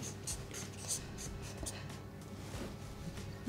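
Handwriting on paper: a pen scratches and scrapes in short, quick strokes, close and fairly soft, over a constant low room hum.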